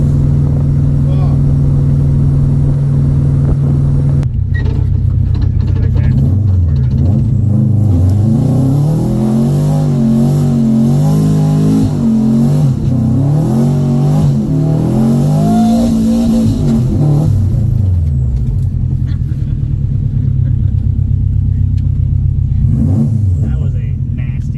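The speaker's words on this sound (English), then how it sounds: "That was a nasty little burnout" A boosted race car's engine revs hard and rumbles loudly through a burnout, pitch sweeping up and down with the throttle, close and continuous, while people talk over it.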